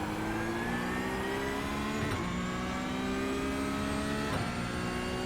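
A Porsche 911 Cup (992) engine pulls hard around Red Bull Ring in iRacing, a faint steady rising whine with two quick gear-change breaks, with no voices over it.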